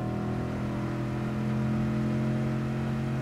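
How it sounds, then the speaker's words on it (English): A Toyota Tundra TRD Sport pickup engine roars steadily at high revs in the Gran Turismo Sport racing game, a loud continuous drone with strong harmonic bands and no break. "See if I can get some tires spinning."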